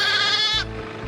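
A sheep from a flock injured by dogs bleats loudly and close by in a single wavering call, followed by low outdoor noise.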